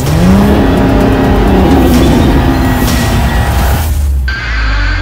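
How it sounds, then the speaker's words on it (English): An F1 race car engine revving, a loud close high-pitched whine that climbs and sweeps as it passes, then cuts sharply to a lower rumble near the end. "now is the time to rev up your engines"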